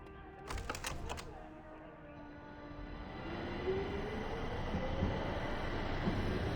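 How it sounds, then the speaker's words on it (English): A train rumbles past in The Darkness video game, a steady low roar that slowly builds and stays loud throughout, with a few sharp clatters near the start. "I heard a train"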